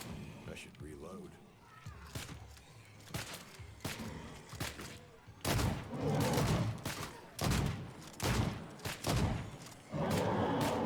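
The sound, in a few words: gunshots at a Bloodblade Juggernaut in a video game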